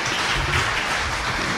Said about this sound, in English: I hope you can give them all a round of applause